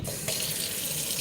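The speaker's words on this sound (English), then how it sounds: "I need to add a little bit more water" Tap water gushes into a double boiler, starting with a sharp burst and then running on as a loud, steady hissing stream close by, with no voices.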